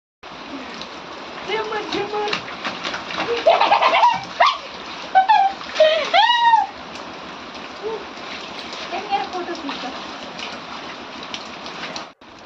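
Afternoon monsoon rain falls on a rooftop as a steady patter, while birds call in short chirps and voices speak intermittently over it.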